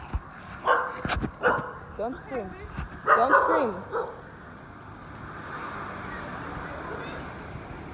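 Dogs bark and yip repeatedly in a dark alley at night in Bali, sharp close barks coming in bursts over the first half while people talk nervously, then fading into a quieter background.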